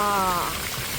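Heavy downpour during a red rainstorm with thunderstorms at Ocean Park in Hong Kong: a dense, steady hiss of rain, with a brief voice at the very start.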